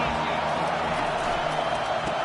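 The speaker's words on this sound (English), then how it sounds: "Here comes second down, and this crowd is turning it up a notch." A college football stadium crowd roars as a steady, dense wall of noise ahead of a second-down play, with a play-by-play announcer talking over it.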